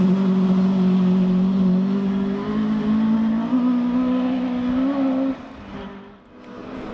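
The Skipton Ford Mark 2 historic rally car runs at full throttle on a forest stage, its loud, close engine note climbing steadily through the revs before dropping away and fading.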